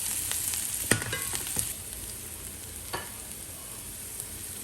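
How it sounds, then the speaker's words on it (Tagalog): Onion sizzles and fries in a hot pan for chicken pastil, a steady crackling hiss with a few sharp clinks of a utensil stirring near the start. "Lagay natin yung onion. I-fry natin saglit."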